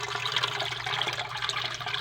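Water from an underground spring in a well gushes and splashes continuously, a dense, busy flow with a steady low hum beneath it.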